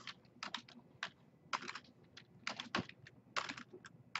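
Bursts of keystrokes on a computer keyboard as a field name is typed into a database form, crisp and close, in quick irregular clusters with short pauses between words.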